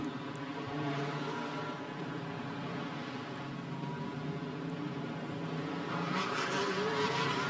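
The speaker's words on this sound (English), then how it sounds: "And so the cars on their formation lap" Race cars on the formation lap at the 2020 Macau Grand Prix give a steady, mid-level engine drone with layered tonal hum that swells slightly toward the end, with no talking.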